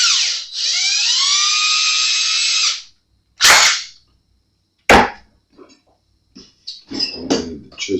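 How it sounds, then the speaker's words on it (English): An electric drill fitted with a 5/64 bit whines in a long steady run while drilling during a guitar strap button repair, followed by two short separate bursts and some faint handling noises near the end. "Put that in the drill bit."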